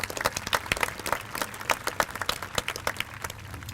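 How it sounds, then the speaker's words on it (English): Audience at a 2019 high school commencement ceremony applauding, with distinct individual claps standing out over a broad wash of crowd clapping, fairly close and lively. "Give yourself a nice round of applause."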